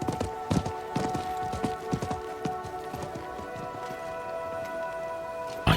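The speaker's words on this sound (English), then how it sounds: "I think that was the merchant's horse." Horse hooves clip-clopping in the Diablo IV video game, a quick galloping patter that is loud at first and then fades away into a quiet background.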